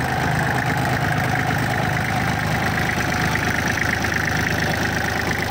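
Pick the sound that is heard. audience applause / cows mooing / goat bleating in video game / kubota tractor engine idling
kubota tractor engine idling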